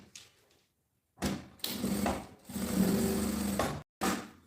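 A sewing machine stitches the lining of a women's backpack in short, close bursts: a brief run, a quick pause, then a longer steady whir of stitching before stopping, with another short burst at the end.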